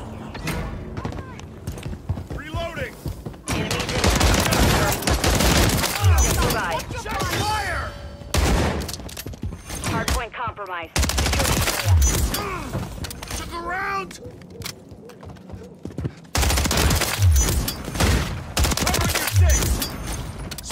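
Rapid automatic gunfire bursts in Call of Duty: Modern Warfare 3 multiplayer, loud and near, with repeated volleys and brief pauses, alongside game effects and radio-style voice callouts.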